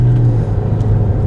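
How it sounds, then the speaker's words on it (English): A car engine drones steadily and close while the car accelerates around a circle in rally-style driving, a brief, loud, low rumble with no voices. "I accelerate with my car"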